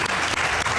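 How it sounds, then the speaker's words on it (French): A television studio audience claps steadily, a dense, even burst of applause filling the whole short moment. "il y a un beau public qui n'arrête pas d'applaudir"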